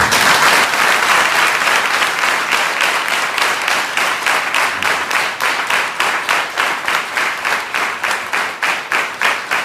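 A worship congregation in Gujarat claps loudly and steadily in unison, the applause settling into a rhythmic beat that carries through the whole stretch without talk.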